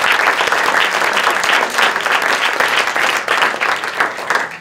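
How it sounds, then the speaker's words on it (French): Award ceremony audience at a short-film night applauds in a loud, sustained wave of dense clapping that fills the whole stretch without letting up. "on peut les applaudir et les remercier"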